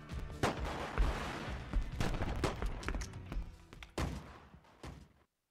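Rapid bursts of gunfire in GTA Vice City crack out loud and close, a dense run of repeated shots with short gaps before ending abruptly.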